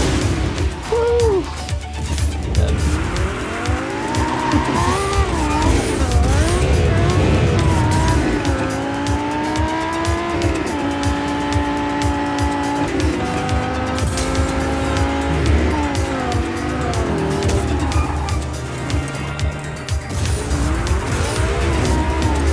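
Cars race through Medici in Just Cause 4, engines droning loudly with repeated tire squeals and skids sweeping up and down throughout, a steady wall of racing noise with no talk.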